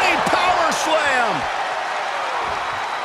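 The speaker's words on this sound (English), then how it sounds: "The roar of this crowd has been building, and they are at a fever pitch right now." A wrestling arena crowd at a championship match roars in a dense, steady wall of cheering that stays loud throughout, with no clear single voice standing out.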